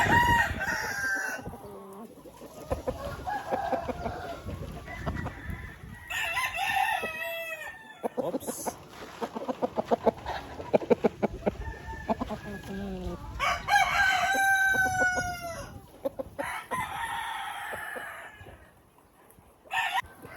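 Breeding roosters, including white Asil heritage chickens, crowing repeatedly on a farm with overlapping calls near and farther off, amid clucks and farmyard noise.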